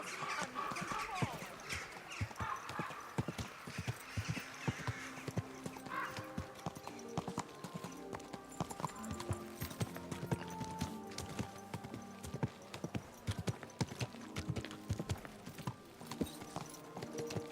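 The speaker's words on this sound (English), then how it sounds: "Get that horse under control." Horse hooves clip-clop steadily in Kingdom Come Deliverance 2, the rhythmic clatter running throughout beneath game music, with a brief whinny early on.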